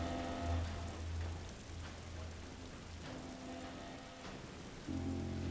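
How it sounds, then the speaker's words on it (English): Rain falls steadily in The Last of Us video game, a soft, faint hiss of drops running under low background hums, with no voices. "Look at the rain!"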